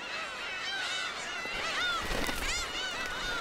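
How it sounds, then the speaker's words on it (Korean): Black-tailed gull colony on an island, a female giving her begging call to a male before mating, with several overlapping harsh, wailing calls rising and falling against a dense chorus of other gulls. "백인콜은 교미를 하기 전 암컷이 수컷에게 먹이를 달라는 소리다."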